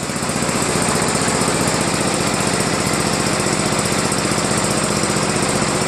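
Small Craftsman LTV 10 lawn tractor engine idling steadily after a restart, a loud, continuous rough chugging with rapid regular firing pulses and no voices.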